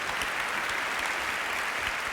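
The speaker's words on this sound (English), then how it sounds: "Let's give them a big round of applause." Audience applause, a steady, dense wash of clapping hands sustained evenly from start to finish with no voices over it.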